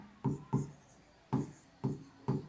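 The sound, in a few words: writing on paper or board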